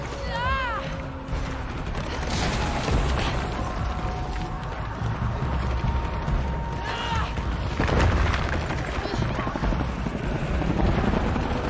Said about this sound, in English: More helicopters.